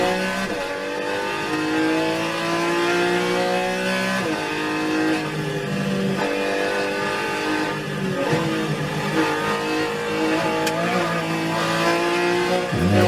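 A racing-game race car screams at full throttle around a hill-climb course, its engine note climbing and dropping sharply through gear changes, loud and continuous with faint tire squeal and no speech.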